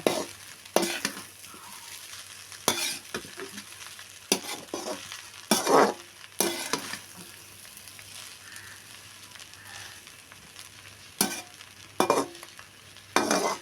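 Prawn fried rice, hotel style, stirred and tossed in a frying pan, with repeated scraping strokes of the spatula over a steady low sizzle, close and fairly loud, no talk.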